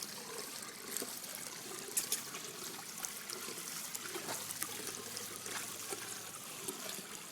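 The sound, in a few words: water sounds as a dog swims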